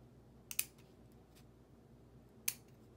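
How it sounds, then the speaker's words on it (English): Scissors cut paper leaves in two quick, crisp snips about two seconds apart, quiet and close against a faint background hush. "I'm going to now grab my scissors and just cut these leaves off."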